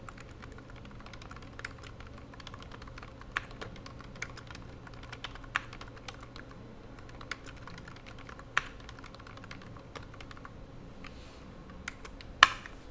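Text is typed on a computer keyboard while working in drafting software, heard as faint, sparse clicks and a few sharper keystrokes over a quiet room hum, with no talking.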